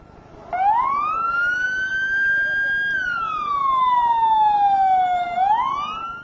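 A loud ambulance siren wailing nearby, its tone rising and falling in long sweeps over a low road rumble.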